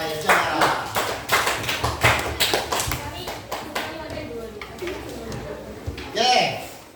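A classroom of children applauds the final group, a burst of clapping close by with some kids' voices mixed in, fading toward the end.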